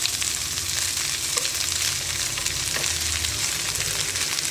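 Cooked rice tossed into stir-fried vegetables and egg for chicken fried rice, a dense, even sizzle with occasional light stirring scrapes, loud and close.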